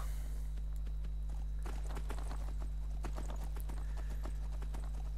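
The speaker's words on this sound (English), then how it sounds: "There's my faithful horse. Let's go, horse." A ridden horse's hooves clip-clop in a steady walking rhythm as it sets off, fairly close and clear over a constant low hum, with no talking.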